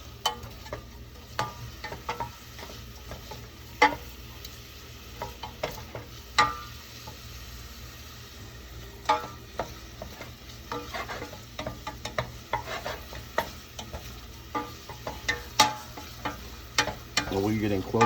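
Shallots cooking in olive oil in a sauce pot as a risotto base, a steady low sizzle with frequent spoon-stirring clicks and scrapes spread through the whole stretch, fairly close.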